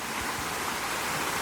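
Water pours steadily down a toy waterfall slide on a Hot Wheels track, a continuous close rushing wash with no gaps.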